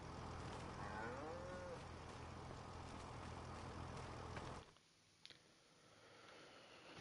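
Cows moo in the video game Farming Simulator 25, with one clear, drawn-out low moo over a steady farm ambience. The ambience cuts off abruptly partway through, and only faint sounds follow.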